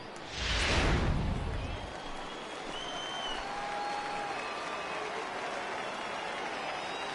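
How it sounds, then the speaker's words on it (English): Crowd at a Tampa Bay Rays versus Baltimore Orioles baseball game rises in a loud burst of cheering and applause, then settles into a steady, distant stadium roar. "Crowd gets up for the 3-2."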